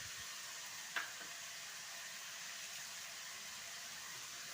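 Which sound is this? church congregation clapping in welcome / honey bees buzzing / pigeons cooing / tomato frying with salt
tomato frying with salt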